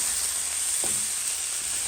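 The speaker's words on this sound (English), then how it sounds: "just stir fry the broccoli and let it get a little scorched" Broccoli stir-fried in a hot pan until slightly scorched, giving a constant loud hiss with a brief scrape partway through.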